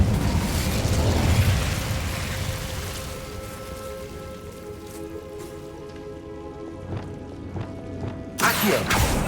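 Incendio fire spell cast in a Harry Potter wizarding video game, a loud roaring, crackling burst of flame that slowly fades to a hiss before a sharp final crackle.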